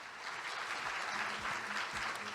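Steady applause from a conference audience at a Korean scientists and engineers congress after a talk, dense continuous clapping at moderate distance with no speech over it.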